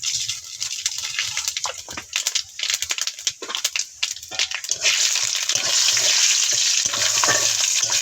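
Whole cardamom, cloves, cinnamon, bay leaf and five-spice tempering crackle in hot oil for khichuri: close scraping and stirring pops at first, then a loud steady sizzle takes over, with no speech.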